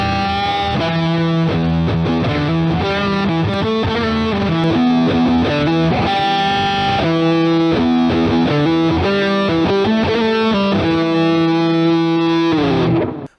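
An electric guitar plays chords and riffs through a Big Muff clone fuzz pedal shaped by an EQ pedal, loud, thick and sustained, continuous for the whole passage before a final cut-off.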